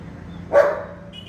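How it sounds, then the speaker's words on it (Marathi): A single short dog bark rings out close by, then fades against a quiet background. "डॉग आहे साईडला तो घुमतो"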